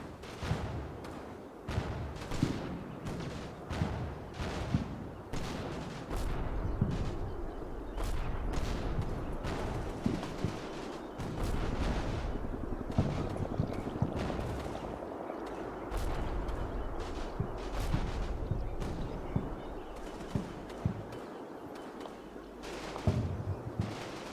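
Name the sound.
machine gun fire in a video game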